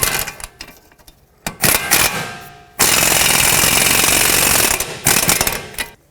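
An impact or air wrench drives strut mount nuts on a 2005-2010 Pontiac G6, with a couple of short bursts and then a long, loud, steady rattling run before a final brief burst.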